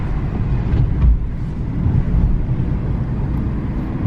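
Audi RS3 cornering at about 25 mph through a residential neighborhood, heard from inside the cabin as a steady low engine and road rumble that swells briefly partway through.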